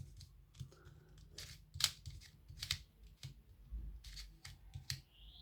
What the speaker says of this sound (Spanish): se escucha el clic en las capas de, digamos, tipo crazy